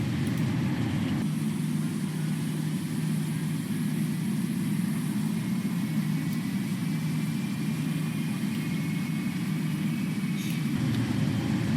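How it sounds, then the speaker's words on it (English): A Boeing 777-300ER jet engine spools up during pushback in Microsoft Flight Simulator, a steady low rumbling drone with a constant whine above it, continuous and even throughout. "let's start pushing back as we also start our engine number 2"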